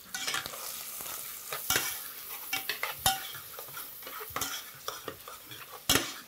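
Onions sauté gently in a pan while a utensil stirs them, giving a soft sizzle broken by irregular scrapes and clinks against the metal, close by and without speech.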